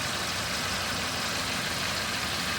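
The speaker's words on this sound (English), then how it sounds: "Engine's running good." A 2014 Toyota Yaris engine idles steadily at close range, a smooth continuous hum with a broad hiss and no voices over it.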